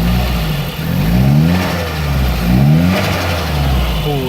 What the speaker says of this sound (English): Oh, that turbo noise.